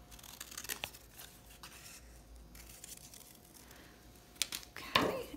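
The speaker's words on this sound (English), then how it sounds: "Now I'm going to use my scissors to cut that half." Scissors snip through scrap paper in a few quick, close cuts, the sharpest snip near the end, over a quiet room with faint background hiss.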